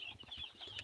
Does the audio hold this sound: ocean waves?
no